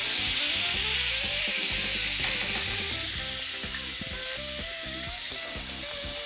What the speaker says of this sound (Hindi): गरम ऑयल के अंदर हम सबसे पहले जिंजर गार्लिक पेस्ट ऐड कर देंगे। इसको भून लेंगे अच्छी तरीके से।